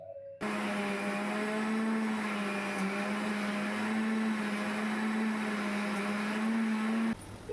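An electric kitchen mixer grinds spices into a paste with a steady, loud motor whine that starts abruptly, runs evenly for about seven seconds and then cuts off.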